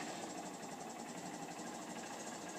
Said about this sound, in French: Je démarre la moto.